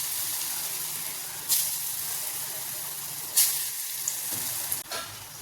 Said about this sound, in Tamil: இப்போ எண்ணெய் காஞ்சிடுச்சு. சின்ன சின்ன போண்டாவாக போட்டு எடுத்துடலாம்.